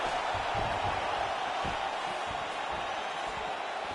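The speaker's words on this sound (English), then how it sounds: "you hear the crowd react every time they come together" In the fighting game UFC 4, a broad, steady crowd roar fills the space, a continuous wash of distant cheering with faint thuds underneath.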